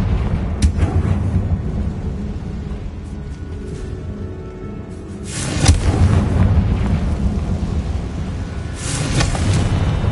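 A Confringo spell explodes in Hogwarts Legacy, a deep booming blast rising around the midpoint over a low rumbling game ambience, followed by a second swell near the end.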